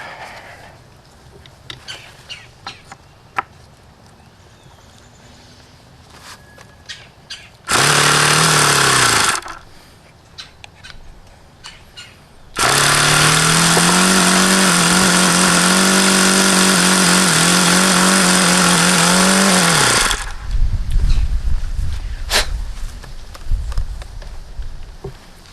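An electric starter spins an Enya model engine in two loud bursts, a short one and then a longer sustained whir of several seconds, alone with no talk.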